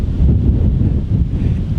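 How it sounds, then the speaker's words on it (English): An outdoor gust hits the microphone, producing loud, low buffeting rumble that flutters unevenly throughout, with no voices over it. "Oh, excuse me, another gust."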